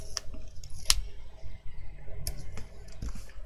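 A blade cuts album cover board along a ruler in a string of close, crisp scraping and clicking strokes, with an irregular rhythm and a low background rumble.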